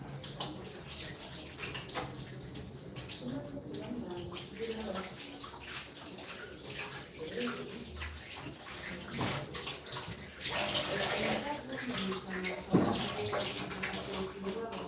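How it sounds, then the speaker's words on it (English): Hands being washed with soap under a running tap, a steady hiss of flowing water with splashing and rubbing throughout, louder toward the end, with faint voices in the background. "I wash my hands with soap."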